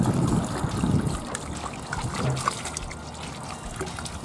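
Warm water being poured into a backyard pool, a steady trickling and splashing stream heard close by for a few seconds with no talking.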